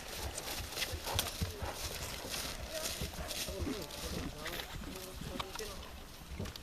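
Horse hooves clip-clop on the ground in a loose, irregular rhythm, moderately close, with people talking over them throughout.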